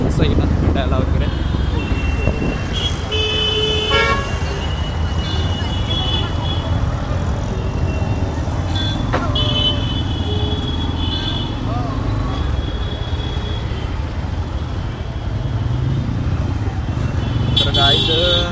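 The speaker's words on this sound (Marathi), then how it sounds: "तर काय ट्रॅफिक बघा." Dense street traffic near Dombivli station: motorcycles and cars roar continuously close by, with occasional horn blasts above the rumble, while a person talks over the noise.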